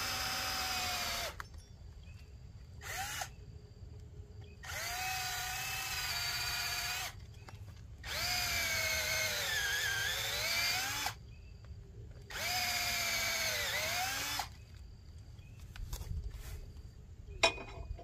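A power drill running with a dull bit during an ATV synthetic winch line and fairlead install, its motor whining in four long sustained runs with pitch sagging under load, close and loud, separated by brief pauses.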